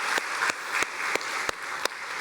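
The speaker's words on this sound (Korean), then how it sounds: "우리 가족으로 힘차게 환영하면서 사랑의 박수" A church congregation applauds during a Sunday worship service, a dense, steady wash of clapping with sharper, evenly spaced accented claps standing out in a regular beat.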